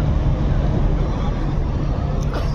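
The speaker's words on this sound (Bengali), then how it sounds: "একসাথে দুটি লঞ্চ ঘাট ত্যাগ করতেছে" Two passenger launches leave Sadarghat river port in Dhaka together, bound for Barisal: a constant deep rumble of engines and churning water with wind buffeting, loud and unbroken throughout.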